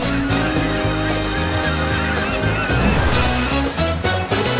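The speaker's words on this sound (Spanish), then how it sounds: "el oleaje es moderado" Moderate ocean surf rolls onto a beach at Cancún, a steady, loud wash of breaking waves with no pauses, heard up close and alone without voices.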